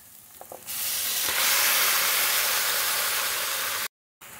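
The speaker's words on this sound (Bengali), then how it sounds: "দেখুন এটা তেল অনেকটা ছেড়ে এসছে, এর চেয়ে বেশি আমি ভাজবো না।" Oil sizzles and fries loudly in a pan ahead of adding mutton, a steady bright hiss that starts suddenly and holds constant before cutting off near the end.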